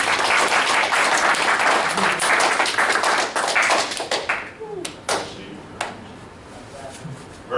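A classroom audience gives a big round of applause at a networking lesson: loud, dense clapping for several seconds that thins out into a few scattered, distinct claps before stopping.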